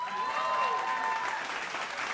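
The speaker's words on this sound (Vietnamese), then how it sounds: "hãy dành một tràng pháo tay thật lớn cho Thiên Khôi" An audience applauds child singer Thiên Khôi at a live show, a steady wash of clapping heard alone for a couple of seconds, with a sustained musical tone running beneath the first half.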